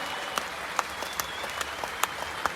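Audience applause at the NEXUS 2025 marketing event, a steady wash of many hands clapping with a few sharper individual claps standing out, fairly distant and continuous throughout.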